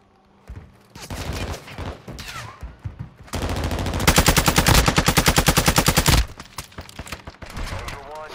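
Automatic gunfire in the Call of Duty DMZ video game, a long rapid burst of regularly spaced shots dominating the middle, with scattered shots and game noise before and after.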